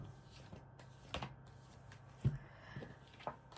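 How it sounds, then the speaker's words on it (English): Tarot cards being shuffled by hand at close range, a soft, continuous papery rustle broken by a few sharper slaps and clicks as the deck is squared, with no talking. "Just a couple more shuffles here."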